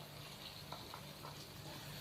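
Soft, steady sizzle of chicken pota (gizzards) frying in spiced masala in a pan, faint and continuous with no talking.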